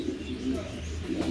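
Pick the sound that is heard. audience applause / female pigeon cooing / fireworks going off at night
female pigeon cooing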